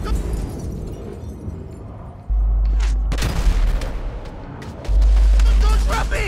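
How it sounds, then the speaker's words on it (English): Gunfire in the GTA 5 video game during a rooftop helicopter extraction, heard as a spread of cracks and bursts over a constant loud rotor-like rumble, with shouted dialogue mixed in. "Shots are coming from across the street!"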